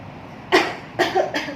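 A person coughs three times in quick succession, sharp and close, against a quiet background.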